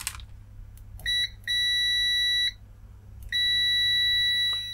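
A cheap Venlab VM-200M digital multimeter sounds its continuity-test beep: a short steady tone, a second longer tone of about a second, then another sustained beep, clear and close over a quiet background.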